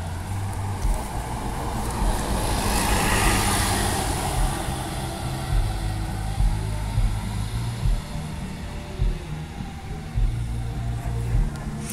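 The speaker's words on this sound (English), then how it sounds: "So there's a 9:35 bus just driving through this tree-lined road." A city bus driving along a tree-lined road, a steady broad engine and road rumble swelling and passing close by, with no talking.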